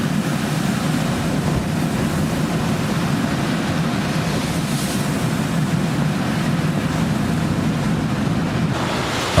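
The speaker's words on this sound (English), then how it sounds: "The waves passed through the entire deck of the ship." Storm waves in the Bay of Biscay surging across the deck of a loaded cargo ship, a loud continuous roar of rushing water mixed with heavy wind buffeting the microphone throughout.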